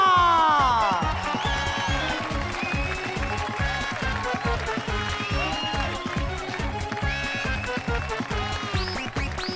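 Audience applause during a staged wrestling match announcement in a children's TV episode, with a steady, dense clapping wash and a loud crowd sound that stays even throughout, layered with music.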